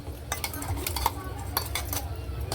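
Ambemohar rice is stirred into half a litre of milk in a metal pot, with a spoon scraping and clinking steadily against the pot at close range. The sound is fairly quiet and no one talks over it.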